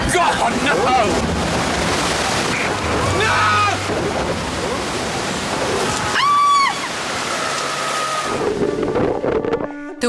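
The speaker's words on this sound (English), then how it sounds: "The water crashed down and unerringly found its target." Heavy rush of water crashing down onto a Terra Nova tent, a loud surging roar with wind buffeting the microphone and a voice calling out briefly in the middle.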